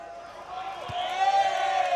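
Crowd at a schools rugby match between Bishops College and Rondebosch Boys High, a broad rising cheer with whoops swelling toward the end, mixed with a sharp thud midway.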